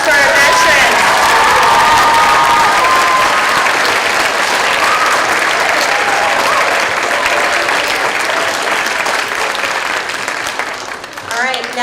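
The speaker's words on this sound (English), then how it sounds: "Can we have one last round of applause for our veterans?" A large crowd at an elementary school Veterans Day assembly applauds loudly and steadily for about ten seconds, with scattered cheers and voices mixed in, then the clapping tapers off at the end.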